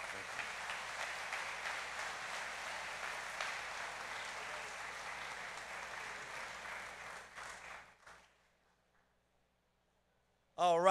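An audience at the Choctaw Nation State of the Nation address breaks into sustained applause, a broad roomful of clapping that holds strong, then fades out into near silence before a voice cuts in at the end.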